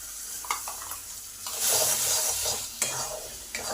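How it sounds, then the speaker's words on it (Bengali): Ground green pea paste is stirred and fried in a pan on medium heat, a steady sizzle with periodic scraping strokes of a spatula. "এবারে বাটা মটরশুঁটিটা দিয়ে দেবো।"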